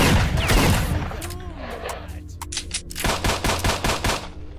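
Rapid automatic gunfire bursts and single shots from the video game S.T.A.L.K.E.R.: Shadow of Chernobyl crackle loudly in the foreground, ending in a fast rhythmic string of shots.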